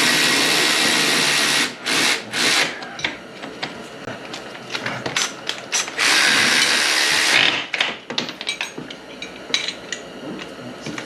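A ratchet tightens a bolt on a wrecked ATV during reassembly, giving rapid close pawl clicking in several long bursts separated by short pauses and lighter metallic handling.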